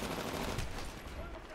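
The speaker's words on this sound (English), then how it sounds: "I hear bullets." Rapid automatic gunfire in a Titanfall attrition match, a dense burst of overlapping shots that fills the short stretch at steady loudness before easing slightly.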